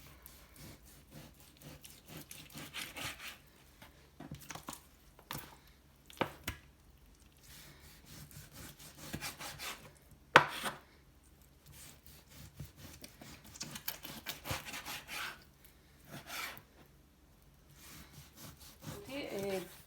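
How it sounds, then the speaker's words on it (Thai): Knife cutting washed pork into pieces on a wooden board, quiet irregular taps and scraping strokes with short pauses between cuts, a voice heard at times. "พอล้างเสร็จยายก็จะเอามาหั่นนะคะหั่นเป็น"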